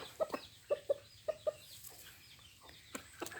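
Young fighting chickens cluck in short, moderately faint calls, five or six in quick succession followed by a few scattered softer ones, with outdoor farmyard ambience.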